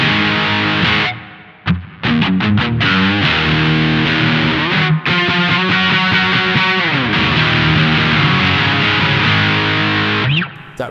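An electric guitar plays a riff through a T-Rex Dr Swamp pedal set for heavy distortion rather than fuzz, loud and sustained with choppy gaps between phrases and no voices.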